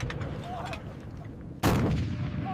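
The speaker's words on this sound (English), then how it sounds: "The gunner pulls the lanyard, unleashing the cannon's fury in a deafening blast across the desert landscape." An artillery cannon fires in the desert, one loud close blast landing suddenly after a stretch of rumbling background noise and ringing on afterward.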